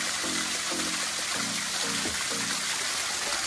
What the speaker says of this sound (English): That waterfall is really blessed.